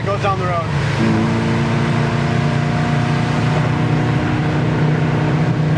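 Steady engine drone of a 1968 Pontiac GTO cruising down the road at wide open throttle, a loud continuous hum with a tonal whine from inside the car, sustained without break.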